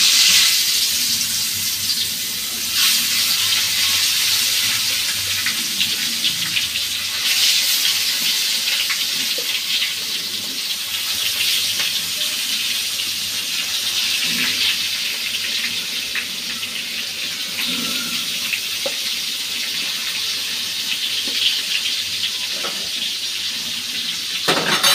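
Fish is rinsed under running tap water, a steady close gush and splash with shifting hand movements in the stream, continuous and uninterrupted.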